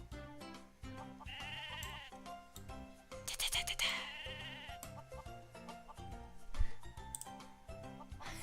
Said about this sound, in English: Yes, we have sheep on the farm now